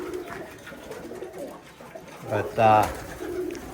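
Indoors in a pigeon loft holding white homers and pouters, soft cooing carries under a voice, then a louder, clearer coo rises near the end over a low background murmur.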